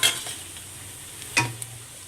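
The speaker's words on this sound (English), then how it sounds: "Okay, so I'm throwing in the tomatoes right now." Tomatoes tossed into a hot pan for coriander chicken curry give a brief sizzle, then a low steady fry with a couple of close stirring clinks and scrapes.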